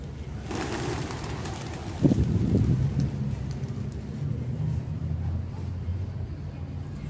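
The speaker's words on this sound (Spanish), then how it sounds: "Ya les andan dando de comer a las palomas." Pigeons being fed outdoors, soft cooing and fluttering that rises around two seconds in, fairly close but quiet, over steady background traffic noise.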